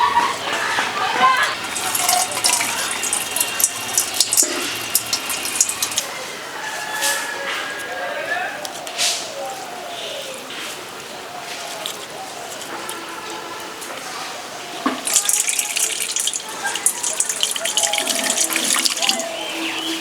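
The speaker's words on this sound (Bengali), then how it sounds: "এবার আতক চালগুলোকে ধুয়ে নেব।" Rice grains being rinsed in a bowl of water, with splashing and sloshing that comes and goes and brief pauses between, as for a coconut khichuri, while a voice talks briefly in a village kitchen.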